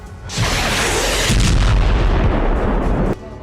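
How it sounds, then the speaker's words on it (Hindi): Mortar fire in a war zone around Khan Yunis: a loud booming blast that swells into a long rumbling roar, holds heavy for a few seconds, then cuts away, with no talking. "हमास के लड़ाके मोर्टार से आईडीएफ पर हमले करते दिखाई दे रहे हैं।"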